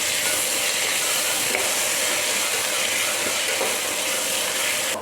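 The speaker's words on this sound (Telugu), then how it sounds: "జింజర్ గార్లిక్ పేస్ట్ అనేది మనకి పచ్చివాసన పోయేంత వరకు మనం బాగా ఫ్రై చేసుకోవాలండి." Ginger garlic paste frying in a pan while making Telangana-style bagara rice, a loud steady sizzle and hiss that runs continuously, close up, with no talking.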